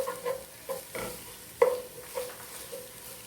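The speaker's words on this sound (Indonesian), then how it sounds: "Kita aduk lagi sampai harum." Ginger, chili and garlic stirred while frying in a pan, a soft sizzle beneath repeated scraping strokes of a spoon that land at uneven intervals, close and fairly quiet with no talking.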